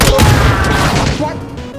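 A grenade blast in a battle-royale shooter game, a loud, booming burst with rumbling low end that decays over a couple of seconds, heard close and heavy with a player's voice over it.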